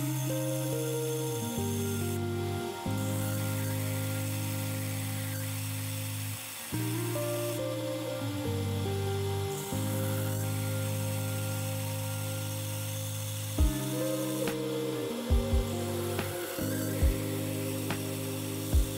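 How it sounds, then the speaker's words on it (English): A belt sander grinds mild steel broadhead arrow points held in vise grips, a loud continuous motor whine with steady harmonic drone and brief scraping bursts as metal meets the belt, running alone without talk. "Just got a pair of vice grips and using my belt sander here."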